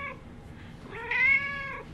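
A hairless cat gives a loud, drawn-out meow with a rising then falling tone, heard close up after a brief softer vocal sound at the start.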